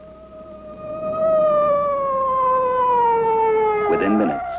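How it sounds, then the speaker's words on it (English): A cartoon ambulance siren in Astroboy wails in a single long, loud tone that slowly drops in pitch, with a short burst of voice near the end. "Within minutes, an ambulance was on the scene."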